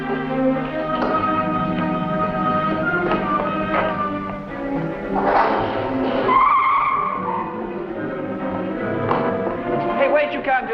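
A car's tires squeal and skid loudly as it drives off, a long screeching slide with engine noise and a few thumps, heard alone without talk.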